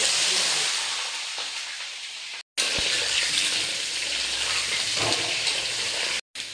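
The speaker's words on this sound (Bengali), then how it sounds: "সামান্য লবণ সামান্য হলুদ দিয়ে আলুটাকে আমি লাল লাল করে ভেজে নেব" Potatoes frying in hot oil in a kadai with a little salt and turmeric, a loud dense hiss and crackle that runs steadily, stops briefly twice at cuts, and carries a few stirring knocks.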